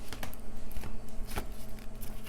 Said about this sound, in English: Sorry, shuffle the clarifiers.